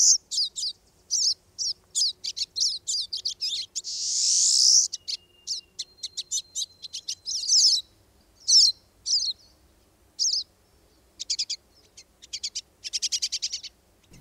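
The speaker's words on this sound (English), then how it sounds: "this is a very small songbird. More than likely, if you're not, you can see these at your feeders, okay? And it's in the finch family. It's called a pine siskin." Pine siskin, a small songbird of the finch family, giving rapid series of high, thin, buzzy chirps and twitters in bursts with short gaps, close and clear with no other sounds.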